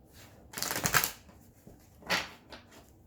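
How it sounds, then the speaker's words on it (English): Two quick bursts of tarot cards being shuffled, close and crisp, separated by a short pause, with no talking. "One more shuffle."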